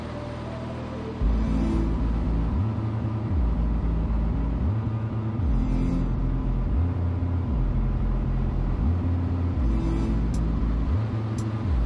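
A Van's RV-14 small airplane's engine drones steadily in aerobatic flight, with a pulsing, cyclic rumble that swells and fades at regular intervals, loud and continuous throughout with no voices.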